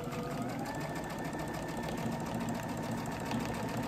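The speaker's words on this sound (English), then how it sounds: "You don't have to do any feeding at all because the machine is pulling the fabric along at the correct rate." A sewing machine fitted with a walking foot stitches fabric along marked lines, its steady, even motor whir and rapid needle chatter running continuously at moderate volume without talking.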